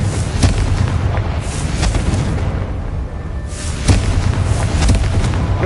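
A Confringo blasting spell in Hogwarts Legacy sets off several deep, booming explosions in quick succession, loud and close, with rumbling bursts over a dense game backdrop.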